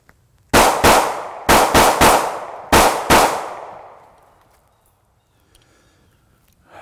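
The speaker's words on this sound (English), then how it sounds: "this is with the standard magazine that came with the gun, so I'm going to shoot it" A Ruger pistol fires seven shots from its standard magazine, sharp loud reports in two uneven clusters over about three seconds, each with a short ringing decay, then fading to quiet.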